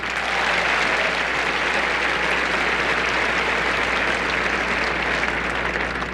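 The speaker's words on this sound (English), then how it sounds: "How about a great round of applause for our tournament co-chairman" Dense, loud applause from a large crowd at the 2001 Indian Wells tennis tournament awards ceremony, with a sustained, even roar of clapping that holds steady throughout.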